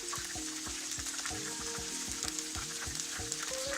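Chicken Manchurian pieces sizzle steadily in hot oil in a restaurant-style Indo-Chinese frying pan, with a spoon or spatula scraping and stirring in repeated strokes close by. No one speaks.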